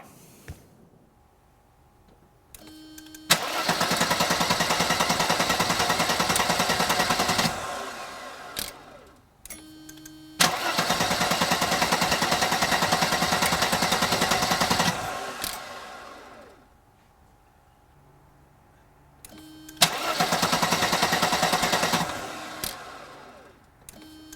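A Mercedes W126 with a fuel-injected C.I.S. engine and a no-start fault cranks and runs in three separate bursts, each a few seconds of loud, steady engine noise separated by quiet gaps.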